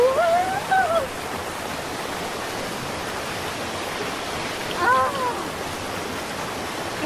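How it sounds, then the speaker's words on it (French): Steady broadband rush of flowing water in a bamboo jungle of the Andes, continuous and fairly close, with brief high bird-like chirps near the start and again around five seconds. "C'est le son du miracle, l'eau."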